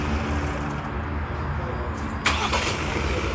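A Ford Ranger T9 with a new 12-volt 50Ah battery fitted starts up: a low idle rumble, then a sharp catch and brighter surge of the engine firing near the end, close by.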